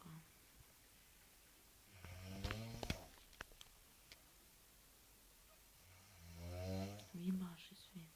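A person snoring loudly in two separate rough, rumbling bouts with a quiet gap between them, close and clear against a faint background.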